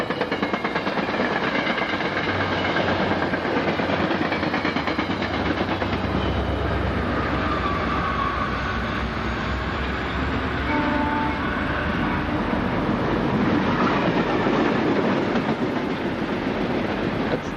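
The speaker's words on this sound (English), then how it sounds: "Here comes another train the other way anyway" A passing train hauled by two diesel locomotives gives a loud, close, steady rumble with rail clatter that runs without a break from start to finish.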